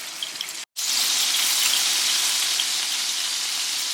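Handi kabab frying in a pan, a steady bright hiss of sizzling oil that drops out for a brief moment near the start, then continues evenly and loud.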